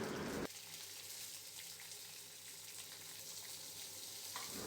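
Green chilies sizzle steadily in hot oil for a mutton dish, a constant crackling hiss that stays even throughout and fairly quiet.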